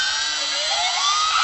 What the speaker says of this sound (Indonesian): Iya, ada helikopter datang, guys.